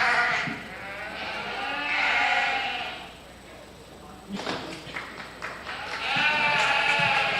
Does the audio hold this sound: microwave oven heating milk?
no